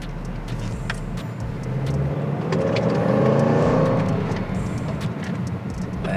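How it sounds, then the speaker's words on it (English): A car engine revs up through its exhaust, a deep throaty rumble that swells to a peak and then eases back, heard close by. "I like the way the exhaust sounds"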